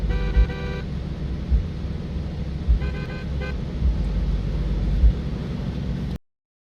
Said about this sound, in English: they're honking